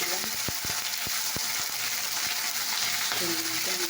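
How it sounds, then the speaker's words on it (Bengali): Green peas frying in oil make a steady, close sizzling hiss throughout, broken by a few sharp clicks and scrapes from stirring. "আর এরকম মটরশুঁটি ছাড়ানোতে তেল দিলাম"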